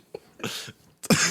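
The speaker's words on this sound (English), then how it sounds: "No, I'm coughing." A single short cough lands near the start of a podcast studio recording, followed by a second, louder burst of coughing close to the microphone, with quiet gaps between them.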